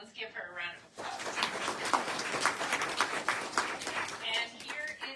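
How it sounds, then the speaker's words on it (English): An audience at a VIP fashion show in Geneseo, Illinois claps in sustained, dense applause for about four seconds. A speaking voice comes before it and rises again over it near the end. "Let's give her a round of applause."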